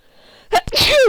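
A single loud, close sneeze bursts out after a quiet moment, with a sharp intake and an explosive, hissing release.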